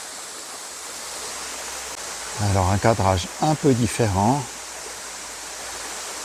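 Water of a river flowing steadily over its bed, a constant broadband rush heard from within the riverbed, continuing under a brief stretch of someone talking in the middle.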